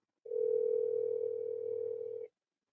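A single steady telephone tone sounds for about two seconds, clear and fairly quiet, starting and stopping abruptly with no talk.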